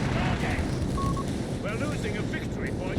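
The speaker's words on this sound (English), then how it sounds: "Another strafe here." A strafing run from aircraft rips across a Company of Heroes 3 battlefield between German and British forces, a dense, continuous rumble of gunfire and explosions that stays loud throughout, with voices talking over it.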